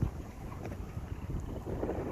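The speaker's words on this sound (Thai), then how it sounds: "ลมอีสานนะครับตอนนี้เป็นลมอีสาน ลมตะวันออกเฉียงเหนือนะครับ" Strong northeast monsoon wind rushes steadily across the microphone outdoors at an afternoon bird-training session, a continuous low roaring buffet with no voices.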